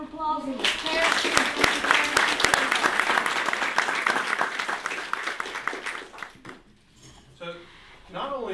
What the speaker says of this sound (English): let's give all of them one more big old round of applause and the parents